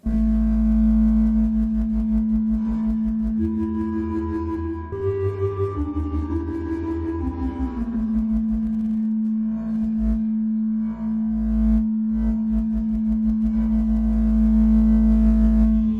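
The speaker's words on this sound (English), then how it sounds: "that's going to give us a modulated spatial reverb" Droning Korg Volca Modular synthesizer tones with a steady low hum and sliding, shimmering upper pitches that blur into a wide, wavering modulated reverb.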